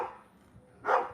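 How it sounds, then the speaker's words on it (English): A dog lets out a short, close bark at the end of a brief quiet stretch, following a fainter bark at the start. "this dog just will not be quiet."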